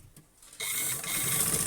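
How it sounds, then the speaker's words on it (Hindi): A sewing machine stitches along both sides of a fabric strip, a loud, steady mechanical whir that starts abruptly after a short quiet moment and runs on continuously. "इस कपड़े की पट्टी को हम दोनों तरफ सिलाई लगा रहे हैं।"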